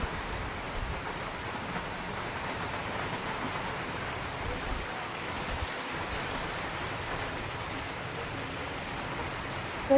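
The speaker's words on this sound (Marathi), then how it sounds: "एवढा पाऊस आलाय तर वेगवान पाऊस आलाय बघू शकताय तुम्ही" Heavy rain pours down steadily, a dense continuous hiss with no pauses or voices.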